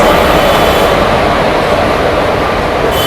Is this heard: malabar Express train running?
yes